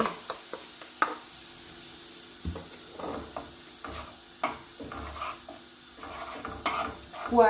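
Beef stir-fried with basil and red curry paste in a pan: a spatula scrapes and taps in irregular strokes over a faint, steady sizzle.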